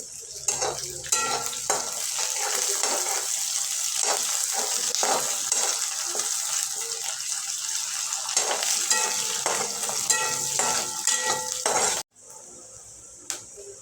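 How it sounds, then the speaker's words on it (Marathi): Curry leaves crackling in hot oil for a tempering with onion, a loud, close, steady sizzle broken by repeated spoon scrapes and clinks, ending abruptly into a quieter hiss. "नंतर कढीपत्ता घालू टाकून घेऊ"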